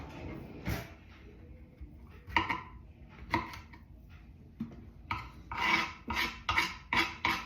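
A knife scrapes and rasps over foraged wild mushrooms during cleaning, with scattered short strokes that give way to a quicker run of repeated scraping bursts near the end, close up and without talk.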